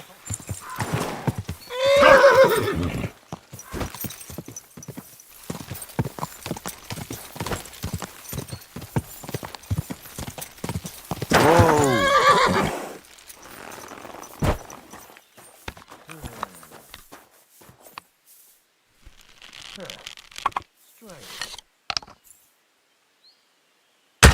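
A horse whinnies loudly twice amid a run of clip-clopping hoof beats, the hooves quieter and sparser later, with a few short exclamations from a person between the sounds.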